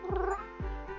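Two drawn-out meows from a cartoon cat in a cozy cat-collecting video game, the first starting early and the second around the middle, loud and close with rich harmonic tone and no talking.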